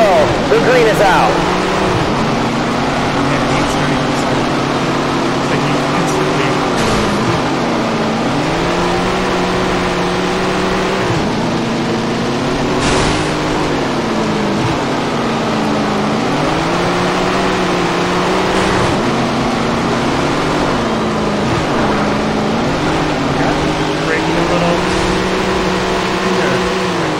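Race car engines roar at the start of a race in Tony Stewart's All American Racing, several engines droning together with pitch rising and falling in repeated waves, loud and sustained, with voices talking over the top.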